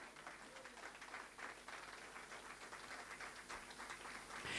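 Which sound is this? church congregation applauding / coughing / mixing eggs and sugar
church congregation applauding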